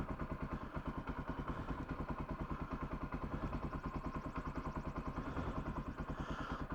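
A Kawasaki KLR 250 motorcycle engine idles just after starting, with a steady, fast, even thumping pulse that holds on throughout at fairly low volume and close range, with no voices.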